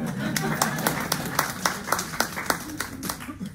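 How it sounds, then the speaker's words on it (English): A small audience claps in a loose, rhythmic pattern of distinct hand claps under a speaker talking, moderately close and fairly soft. "You can clap for that."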